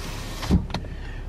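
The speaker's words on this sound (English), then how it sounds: "and driver's side rear window." Power window motor of a 2013 Nissan Sentra, heard as a brief whir of one window, a short rising buzz with a faint clunk as it stops, inside the car with no talk.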